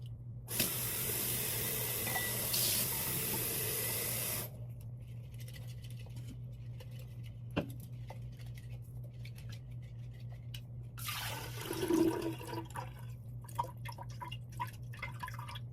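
Tap water sprays hard for about four seconds, then drips and patters as sprouting seeds are rinsed in a sink, followed by a brief second burst of rinsing and splashing, all without talk.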